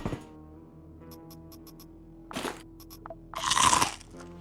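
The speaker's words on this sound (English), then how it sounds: "Very crunchy spider soup" Crunchy spider soup being eaten in the video game QuasiMorph: a few sharp crunching bites, the last one longest and loudest, over a quiet, steady game music bed.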